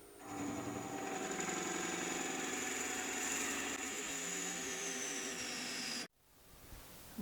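A 1 1/4 inch Forstner bit bores into a workpiece, apparently on a lathe, with a steady, dense mechanical whine for about six seconds before stopping abruptly, followed by quieter handling noise.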